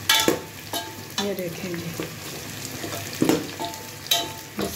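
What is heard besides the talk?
cinnamon and cardamom sizzling as added to frying pot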